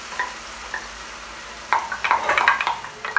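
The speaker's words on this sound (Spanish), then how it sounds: "Removemos bien para que se mezcle todo." A mushroom cream sauce in a frying pan is stirred, starting with a quiet simmer and a couple of light taps, then a run of busier scraping and clinking strokes against the pan.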